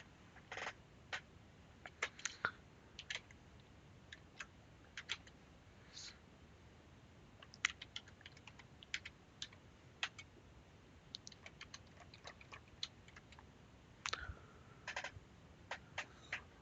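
Keys on a computer keyboard are typed in short, irregular bursts of soft clicks, faint and close, with quiet gaps in between.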